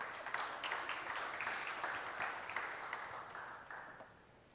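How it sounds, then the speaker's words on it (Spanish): Congregation clapping together during a church service, a dense, sustained round of applause heard from a distance, fairly faint and tapering off toward the end. "Y dale un aplauso al Señor,"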